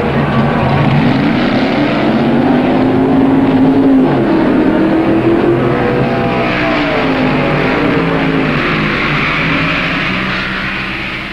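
Top stock eliminator final at the 1966 NHRA U.S. Nationals drag race, a white Plymouth against a Chevy II, engines roaring loudly and continuously as they accelerate down the strip, fading slightly at the end.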